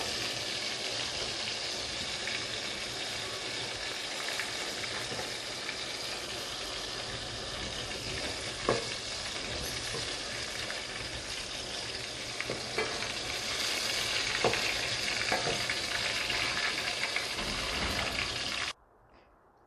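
Chicken koftas fry in hot oil with a steady, dense sizzle that holds close and even for nearly twenty seconds. Occasional small pops and spatters rise above it before the sound cuts off abruptly.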